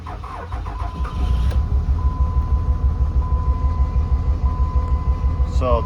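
An abandoned high-mileage Dodge 2500 pickup with a 5.9L Cummins diesel cranks, catches after about a second and settles into a loud, rough, pulsing idle, heard up close. A brief sharper noise cuts in near the end.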